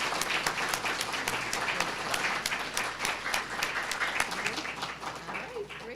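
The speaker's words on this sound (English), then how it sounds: "Let's give them a big round of applause." Clapping at a library literacy graduation ceremony for volunteers: a crowd's brisk, continuous applause with sharp individual claps standing out, lively and close, with murmured voices underneath.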